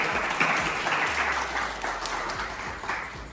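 Audience applause greets the jury panel at a college bilingual debate competition, a steady wash of many hands clapping at moderate distance, continuing without pause for a few seconds.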